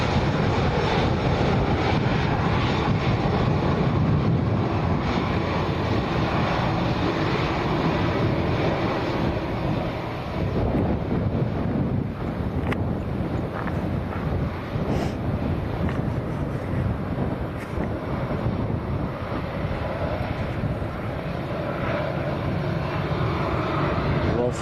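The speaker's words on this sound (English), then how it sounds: "Also have a Binter Airlines taxiing out as well." A Binter Airlines airliner taxis at Lanzarote airport, its continuous jet engine roar filling the scene with wind buffeting the microphone.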